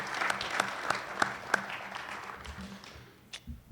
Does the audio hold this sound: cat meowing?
no